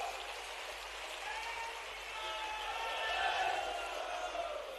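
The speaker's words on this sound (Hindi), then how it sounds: "जोरदार ताली बजाओ।" A large audience at a stadium event in Bhopal claps loudly, a dense continuous wash of applause that swells slightly toward the middle before easing.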